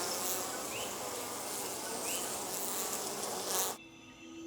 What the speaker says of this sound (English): Sharing a cave-dwelling lifestyle with the bats could prove a risky venture for these honeybees.